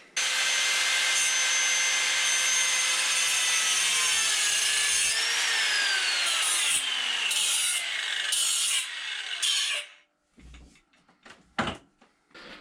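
A loud, continuous shrill cutting of metal plate for a Toyota MR2 SW20 exhaust runs for about ten seconds, its pitch slowly sliding, then stops and gives way to a few scattered clanks.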